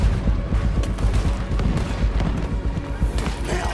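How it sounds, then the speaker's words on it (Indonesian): Dense gunfire and booming blasts in Red Dead Redemption 2 during a fight against the navy, with shots and heavy explosions overlapping steadily across the whole stretch, loud and close. "Sudah tembakan di mana-mana bre."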